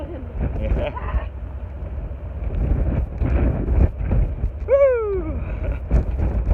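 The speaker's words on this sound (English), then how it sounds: "it is very windy out here" Strong wind buffets the microphone on the deck of the cruise ship MSC Lirica sailing the Persian Gulf, a constant low roar with gusts, and a brief bleating-like cry or voice rises near the end.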